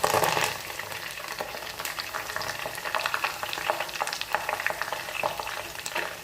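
Ghee frying with fresh betel leaves dropped in, a dense, steady crackling sizzle with scattered sharp pops and spits, close and continuous throughout with no talking.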